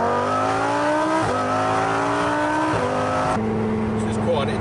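A Lamborghini Huracan Performante Spyder engine in its loud noisy mode pulls hard and close, the pitch climbing repeatedly and dropping at each of three quick gear shifts, then settling into a steady drone.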